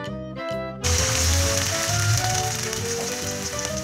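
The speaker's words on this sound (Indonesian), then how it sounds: "Untuk kentangnya ini aku goreng ya. Ini nanti kita goreng sampai garing." Potato pieces drop into hot oil and fry with a loud, dense, continuous sizzle that sets in abruptly and holds steady for several seconds, with no talking.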